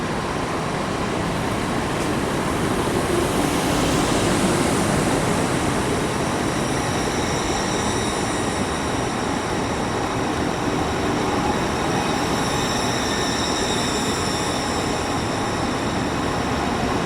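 Onboard a ScotRail train while it runs, a constant loud rumble and roar of the carriage with steady wheel and motor noise throughout.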